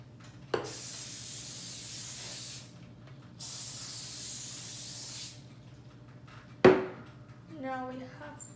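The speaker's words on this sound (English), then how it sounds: "So now we have to spray our baking tray." Cooking spray is sprayed onto a baking tray for brownies in two long, steady hissing bursts, each a couple of seconds, close to the microphone, followed by a sharp knock and a brief clatter.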